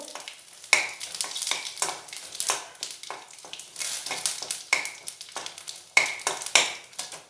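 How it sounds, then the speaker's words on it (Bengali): Dried red chili pieces and whole cumin seeds being stirred in hot oil for a tempering, heard as a steady sizzle broken by scraping strokes from a stirring spoon, with no talking. "দিয়ে ফোড়নটা একটু নাড়াচাড়া করে নেব"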